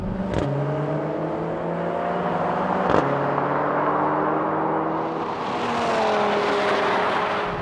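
An Audi RS 3, Mercedes A45 AMG, Honda Civic Type R, VW Golf R and Ford Focus RS in a drag race, loud engines revving and rising through gears with sharp shifts, roaring together close by.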